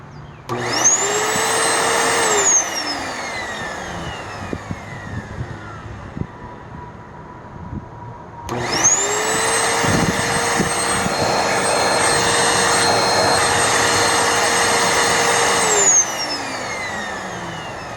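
A vacuum cleaner found on the curb runs in two loud bursts, whining up to speed, holding a steady roar, then spinning down, with clatter and handling noise in the short gap between.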